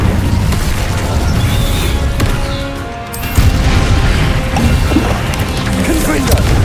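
Incendio fire spell cast in Hogwarts Legacy: a loud, sustained roaring whoosh with booming impacts, a brief dip midway and then a renewed surge, backed by a continuous rumbling battle din.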